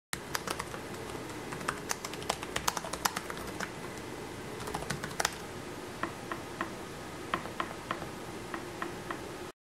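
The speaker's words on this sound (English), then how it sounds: "It also seems quieter to type on than last year's model." Typing on the keyboard of a 2022 Asus Zephyrus G15 laptop: rapid, fairly quiet key clicks in irregular bursts, close up, with a brief pause before sparser taps resume; no talking.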